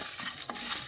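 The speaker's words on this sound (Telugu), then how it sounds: "ఇప్పుడు ధనియాలు అన్నీ డ్రై రోస్ట్ చేసుకుందాం." Coriander seeds dry roasting in a pan, stirred with a few close scraping and rustling strokes over a faint steady sizzle, no voices.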